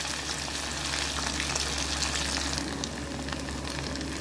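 Anchovy fish frying in hot oil give a dense, steady sizzle that crackles continuously and close up with no voices.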